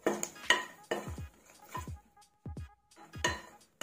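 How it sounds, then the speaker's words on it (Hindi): Whole spices stirred in hot oil in a pan for paneer changezi, heard as a handful of close, sharp metallic clinks and scrapes of a utensil against the pan, spaced irregularly with quiet gaps and no clear sizzle. "अब इसमें हम जो खड़ा मसाला सब लिए थे इसको डाल देंगे। इसको हम थोड़ा सॉटे कर लेंगे।"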